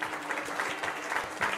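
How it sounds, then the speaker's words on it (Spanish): Scattered clapping in a short burst of applause during a soccer video game pack opening, a brisk, moderately loud patter of hands throughout. "¡Fuerte aplauso!"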